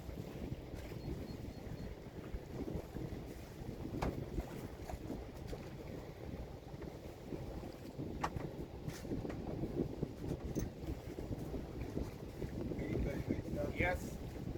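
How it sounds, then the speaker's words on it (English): A sailboat's engine rumbles low and steady beneath wind buffeting the microphone, with people talking over it. "Fired the engine up."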